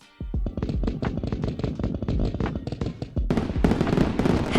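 A fireworks effect fires off on a stream as a channel point redemption: a dense, loud string of rapid crackling bursts and pops. It carries on steadily and swells into a bigger barrage near the end.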